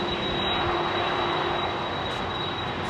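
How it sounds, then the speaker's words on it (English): Boeing 767 airliner at London Heathrow runway 27R, heard close up as a loud, sustained engine roar with a steady whine running through it, no talking. "I love a 767"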